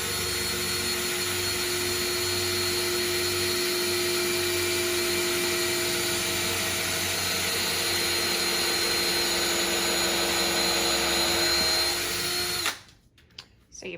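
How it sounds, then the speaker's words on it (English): A power drill runs steadily, pre-drilling screw holes in clamped wood for a dishwasher and microwave install, one continuous whine lasting about twelve seconds before cutting off abruptly into near silence. "So you pre-drill."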